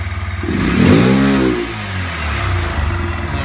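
Honda Grom motorcycle engine revved against a 6,000 rpm limiter: the idle swells into a quick rev that climbs, holds briefly and falls back, then settles into a pulsing idle, loud and close.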